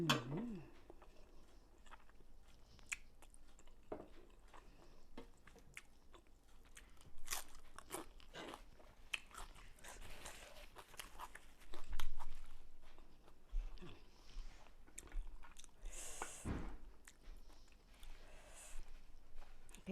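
Someone eating steamed Norwegian crab with bread and a dipping sauce: close crunching bites and chewing, with sharp cracks scattered irregularly over quiet background, some faint talk mixed in.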